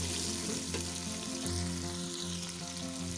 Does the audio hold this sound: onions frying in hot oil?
yes